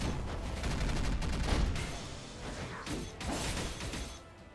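A burst of explosive impacts from the action game Skul: The Hero Slayer, dense crackling blasts and whooshes layered together, loud and continuous for a few seconds before tapering off.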